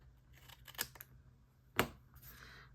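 Scissors trim a strip of paper during a papercraft session, giving a few sharp close snips with the loudest cut near the end, and no voices.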